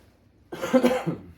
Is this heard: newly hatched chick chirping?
no